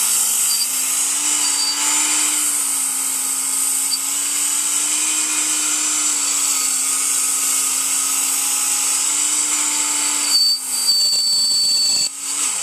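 A Work Sharp powered knife sharpener grinds a knife blade, making a loud, steady, high-pitched motor whine and abrasive hiss that runs without a break and shifts briefly near the end.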